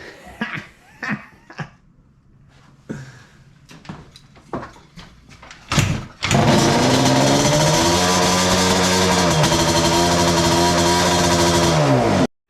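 A Banshee 521 Super Cub motorcycle is kicked over with a few scattered clunks and thumps, then the engine fires and runs loud and close at a steady idle for about six seconds before it cuts off abruptly.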